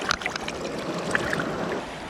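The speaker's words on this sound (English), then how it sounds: "Let's give our bottle a little wash and see what it is." Glass bottle rinsed in river water on a mudlarking outing, with brief splashes and trickling sloshes up close, a few small clinks between them, no talk.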